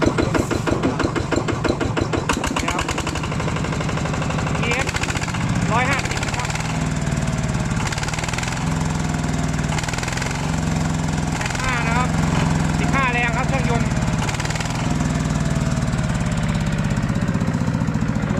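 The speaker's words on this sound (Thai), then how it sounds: "มาฟังเสียงเครื่องยนต์นะครับ" A Yanmar TF150 diesel engine runs steadily with a low, rough rumble and rhythmic knocking, close by, with some brief voices and clanks over it.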